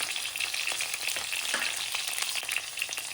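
Cauliflower and potatoes fry in a pan for a mixed vegetable dish, a steady soft sizzle with faint crackles and occasional stirring scrapes, continuous and close.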